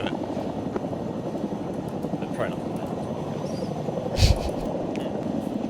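A helicopter drones steadily as a dense low rumble throughout, with faint radio-style voices and a brief sharp knock near the end.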